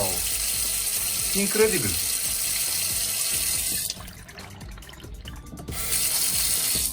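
Water rushes steadily from a household tap once pressure is restored after a kinked hose is fixed. The flow is loud and close, briefly dips, then surges back, with a short excited exclamation over it.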